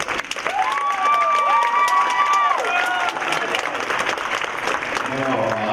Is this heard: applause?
yes